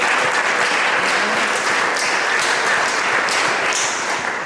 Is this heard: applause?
yes